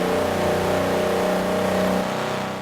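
A Hudson Hornet's deep, old-style engine in Forza Horizon 4 drones and revs steadily at close range, a loud continuous rumble with rich low harmonics and no talking.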